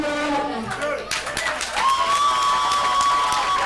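A wrestling arena crowd cheers and applauds for a former champion, dense clapping and shouting that swells into a sustained roar, with a high whistle-like tone riding over the noise.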